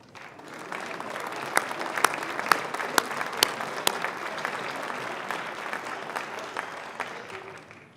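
Sustained applause from a large audience at a graduate commencement ceremony, dense steady clapping with a few sharper individual claps standing out, fading slightly at the end.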